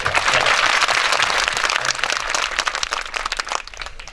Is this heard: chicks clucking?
no